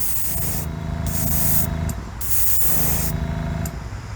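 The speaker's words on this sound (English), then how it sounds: "Test it, make sure it's spraying." An aerosol can of sealer sprays in several hissing bursts, each lasting about a second, with brief pauses between them, loud and close.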